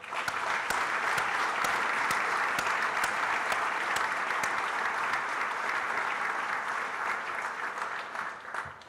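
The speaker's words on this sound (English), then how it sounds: "So I'd like to have a round of applause for all those people." Sustained applause from an audience at an EV engineering competition awards ceremony, a dense, steady wash of many hands clapping that holds evenly for about nine seconds before easing slightly at the end.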